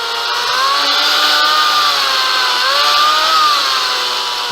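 A Makita electric chainsaw cuts through a large piece of wood with a loud, close, continuous high whine whose pitch dips and rises as the chain bites and labors, with no talking.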